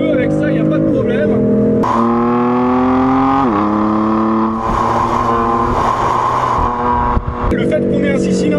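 BMW M3 six-cylinder twin-turbo engine revving hard and loud, pitch climbing and dropping through several surges with a steady rough drone underneath.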